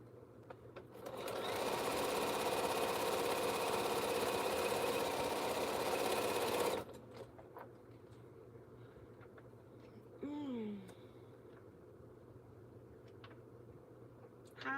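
A sewing machine stitches a quilt square of fabric in one steady, loud run of about six seconds, then stops, leaving a quieter room with faint handling noises and a brief soft tone.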